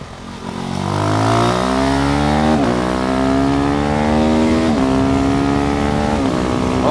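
KTM Duke 390 single-cylinder motorcycle revving hard to high rpm, with rising engine pitch cut by quick clutchless quickshifter gear changes, loud and close, continuous for several seconds with no talk.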